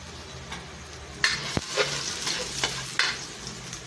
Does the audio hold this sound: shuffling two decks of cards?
no